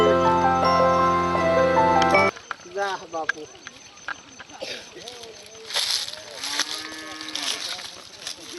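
After a short burst of music, a cow gives several drawn-out moos at a rural homestead, mixed in with people talking nearby in a village comedy skit.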